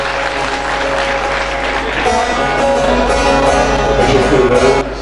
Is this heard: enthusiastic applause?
yes